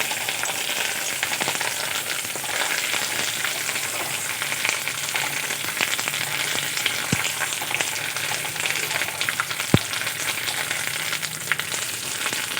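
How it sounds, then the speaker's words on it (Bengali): Neem leaves deep-frying in hot oil until crisp, a steady dense sizzle and crackle running throughout with a couple of brief sharp pops, close and continuous with no talking. "এভাবে আমি নিম পাতাগুলো মুচমুচে করে ভেজে নেব।"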